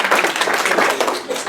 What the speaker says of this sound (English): If you want to clap, that's